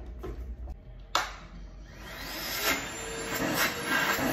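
Milwaukee cordless vacuum cleaner switching on with a sharp start, then running steadily with a loud airy whine and a faint high tone, alone.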